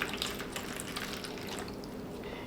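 Water pours into a houseplant potted in leca, a soft continuous trickle and splash with faint drips, close and quiet with no talking.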